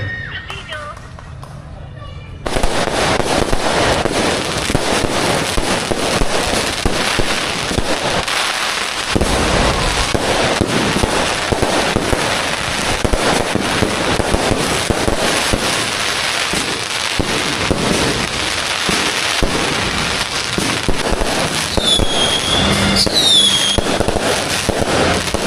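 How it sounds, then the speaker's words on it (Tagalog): New Year's Eve fireworks display at San Nicolas Plaza, Pangasinan: loud, dense, continuous bursts and crackles after a countdown, with crowd voices and cheering mixed throughout. "May fireworks display daw."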